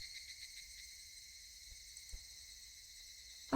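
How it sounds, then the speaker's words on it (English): Cicadas on a summer evening drone in a continuous, high, buzzing chorus that holds steady and fairly faint throughout, with no voices. "As the cicadas fill the evening sky with their cries"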